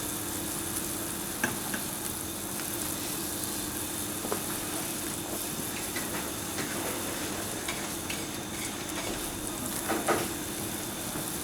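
Chicken jus sizzles steadily in a frying pan, a continuous close hiss with occasional small pops and crackles and no talking.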